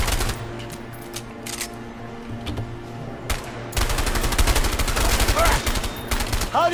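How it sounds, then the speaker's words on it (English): Gunfire in the video game A Way Out comes as bursts of rapid shots. The second half of the clip is louder and denser, and voices are faintly audible under the firing. "Are you shooting?"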